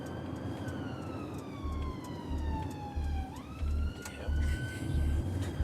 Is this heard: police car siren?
yes